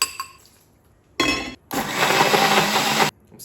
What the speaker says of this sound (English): transfer them to your local blender with some salt